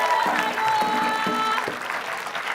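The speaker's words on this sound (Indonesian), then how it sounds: "Ayo semua tepuk tangan dong." A studio audience on an Indonesian comedy game show claps steadily throughout, a continuous bed of applause with faint tonal sounds mixed in.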